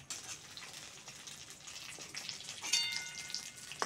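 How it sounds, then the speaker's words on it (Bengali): Eggplant pieces frying in hot oil, a soft continuous sizzle with scattered crackles and pops, fairly quiet and close. "বেগুনগুলো ভাজা হয়ে গেছে, তুলে নেব"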